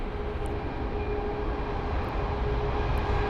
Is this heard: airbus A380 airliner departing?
yes